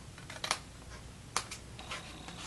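Scissors snipping through cardstock along a score line produce a few sharp, close clicks and crisp cuts, scattered over faint background noise.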